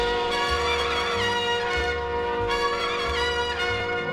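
Pitched-down jazz sample, a murky, slowed ensemble with steady sustained tones over a repeating low bass figure, playing continuously at a fairly quiet level with no voices.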